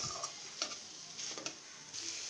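Jackfruit-seed cake mixture with chopped nuts sizzling in a pan while being stirred, steady frying hiss broken by a few short scraping stirs of the spoon, close and moderately loud.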